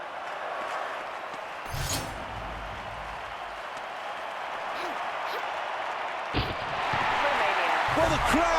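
A stadium crowd at the London 2012 Olympic Stadium, in a video game, cheers in a broad sustained roar that swells toward the end, with a few sharp thuds.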